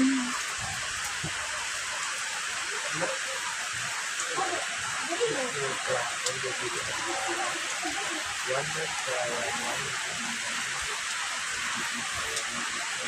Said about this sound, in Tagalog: Kusogay ulan.